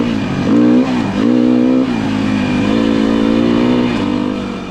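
A Beta 390 RR-S four-stroke dirt bike engine revs loud and close, its pitch rising and dipping through repeated throttle blips before holding a steady mid-range drone that fades slightly at the end.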